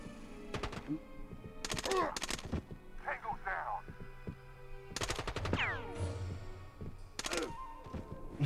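Rainbow Six on PS1 lets off short bursts of automatic gunfire, sharp clustered shots in several rapid volleys with echoing tails, mixed with other game effects and someone talking between them.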